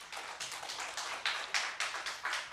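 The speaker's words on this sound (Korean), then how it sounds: "영광의 박수 한번 올리겠습니다" A church congregation at a Friday night service claps together, a steady rhythmic series of sharp hand claps at a brisk even pace, moderately loud in a large room.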